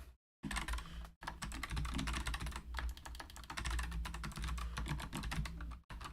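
Rapid clattering keystrokes on a computer keyboard run almost without pause, broken by a couple of short silences, close and steady with no voice.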